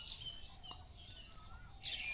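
Birds chirp and twitter in the trees around a village at dawn after rain, faint scattered calls with a brighter burst at the end.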